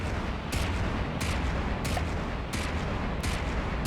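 A turret gun in the naval combat game From The Depths fires regularly spaced shots, with about five loud booming reports over a rumbling battle background and no voices.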